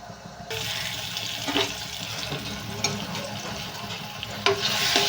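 Cucumber pieces softening in a hot pan give a steady, close sizzle with a watery hiss, broken by occasional scrapes and stirring knocks.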